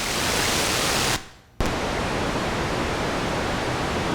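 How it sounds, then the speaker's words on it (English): Pink noise from a Serge CGS31 Elby Designs digital noise module, a loud, steady rushing hiss that cuts out briefly for about half a second in the middle before resuming unchanged. "Now let's hear the pink noise."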